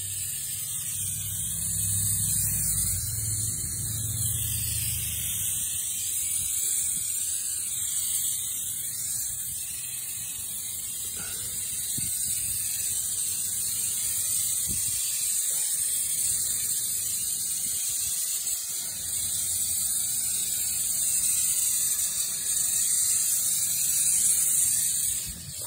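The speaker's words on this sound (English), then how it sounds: "Redneck paint sprayer, redneck paint sprayer," An improvised paint sprayer coats a Jeep CJ5 floor pan with a steady high hiss that runs unbroken for about 25 seconds, over a faint low engine hum and occasional clunks.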